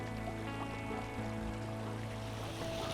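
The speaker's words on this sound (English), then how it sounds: "You see how we have this waterfall flowing over here, Carson, on one kind of solid sheet of water" A small waterfall spills over stones in a stream as one solid sheet of water, giving a steady, continuous rush with a faint tonal hum underneath.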